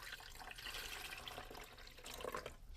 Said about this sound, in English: I have some water. Let's just pour in a little bit.